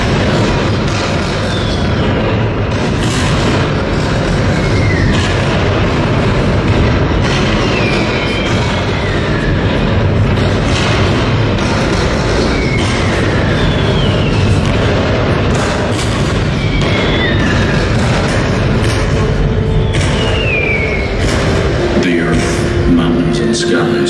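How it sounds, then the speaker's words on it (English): Cannon fire from Confederate and Union guns in a battle reenactment: repeated deep booms and rumbling blasts in a dense, continuous barrage with a faint murmur of voices behind it. "150 Confederate cannon opened fire. Union guns thunder back."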